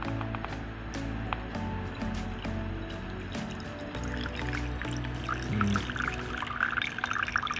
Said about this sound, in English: You understand just how much juice that is from one piece of meat.